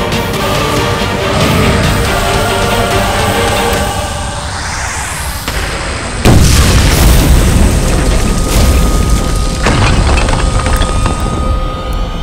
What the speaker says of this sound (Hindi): तो मेरा धमाका देख।